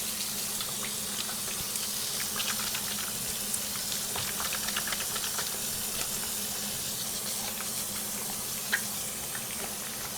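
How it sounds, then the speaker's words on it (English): Tap water runs steadily into a sink during handwashing, a continuous hissing splash at moderate level with no voices over it. "And now I gotta wash my hands again."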